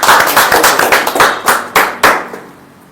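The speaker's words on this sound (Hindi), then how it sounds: "एक बार जोरदार तालियां सर के लिए।" Loud applause for a guest at a seminar in Sunder Nagar, Himachal Pradesh: an audience clapping in strong, rapid, roughly rhythmic bursts that swell and then taper off quickly.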